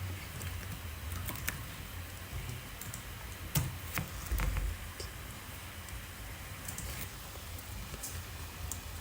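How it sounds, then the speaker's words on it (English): Computer keyboard typed on while entering an SQL query, with soft scattered key clicks over a steady low background hum, close but faint. "I would type it in this way."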